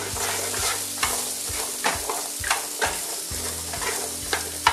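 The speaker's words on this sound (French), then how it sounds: "Les carottes que je vais faire revenir." Carrots sizzle and fry steadily in a hot pan, with periodic scraping and stirring clicks from a utensil throughout.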